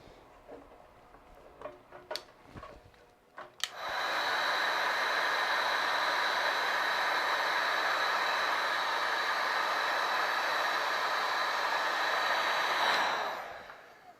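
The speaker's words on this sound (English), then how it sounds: "Let's heat shrink this one now." After a few sharp clicks and handling taps, a heat gun switches on and blows a loud, steady roaring hiss for about nine seconds while shrinking heat shrink tubing, then winds down and stops.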